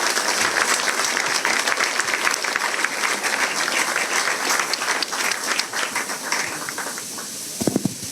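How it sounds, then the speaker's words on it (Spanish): A lecture audience at a conference on Peru's energy and mining sector claps in sustained, even applause that fills the room for several seconds, easing slightly near the end as a few voices surface. "Muchas gracias y aplauso, por favor"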